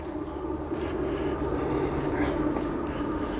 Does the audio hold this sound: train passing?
yes